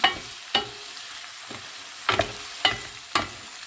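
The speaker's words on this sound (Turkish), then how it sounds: "Şimdi biberlerimizi koyalım. Karıştıralım." Peppers and onions sizzle in a pan for Turkish tripe kavurma, with a handful of sharp scraping stirs of a spoon against the pan, spaced roughly half a second to a second apart, close and clear.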